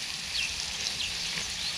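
Food sizzles steadily in a hot pan over a campfire, a bright crackling hiss close by, with no talking.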